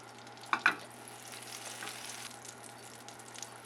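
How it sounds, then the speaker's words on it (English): Four tablespoons of unsalted butter melt in a sauté pan over medium-high heat, giving a quiet, steady low sizzle with two small clicks of the pan near the start. "melt our 4 tablespoons of unsalted butter in a nice saute"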